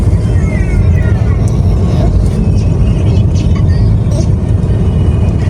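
Heavy highway traffic of large trucks and buses rolls along the Cikampek toll road near Jakarta, a loud, constant roar of engines and tires from inside a small car, with a voice speaking over it.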